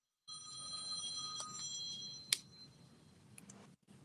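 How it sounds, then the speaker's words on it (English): A mobile phone rings with a loud, shrill electronic ringtone, steady and high-pitched for a few seconds before a click cuts it off, heard alone in a quiet room at moderate distance. "That's Craig's phone."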